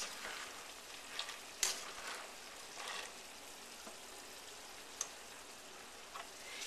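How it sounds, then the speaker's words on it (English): A pot of water for quinoa pasta bubbles on the stove, a faint, steady hiss and simmer with a few soft clinks and pops scattered through it and no talking. "So our water is boiling. Now we're going to put the pasta in."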